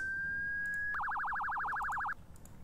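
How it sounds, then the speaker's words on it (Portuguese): A car horn or alarm in the Project Zomboid video game sounds as a steady electronic tone, then jumps into a rapid warbling whoop for about a second before cutting off, loud and close over a low background rumble. "Chamei a atenção deles pra cá, de dar uma buzinada."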